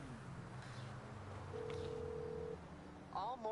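A single steady electronic ringback tone from an in-game phone call to Mors Mutual insurance, sounding faintly for about a second over low engine hum, followed by a brief burst of voice.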